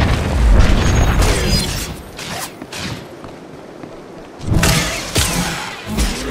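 A bomb goes off in the Star Wars: The Old Republic game, with a loud, close boom near the start, a quieter rumbling stretch after it, and a second burst of blasts and crackle near the end.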